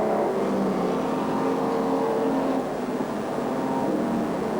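Race cars lap a dirt speedway oval at Alexandra in 1985, a steady, loud blend of engines droning and revving at a distance, continuous for the whole stretch with no talk.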